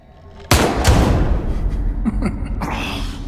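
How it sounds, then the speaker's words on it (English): Revolver shots in The Evil Within 2, a loud close blast followed by a second shot and ringing decay, then fainter rattling game sounds. "You didn't like Leica's revolver"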